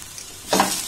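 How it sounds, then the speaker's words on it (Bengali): Vegetables fry in a pan with salt, turmeric and cumin powder while being stirred; after a quiet half-second a loud, close sizzle bursts in and keeps crackling steadily to the end. "আবারও সমস্ত উপকরণ খুব ভালোভাবে নাড়াচাড়া করে আমি ভেজে নেব"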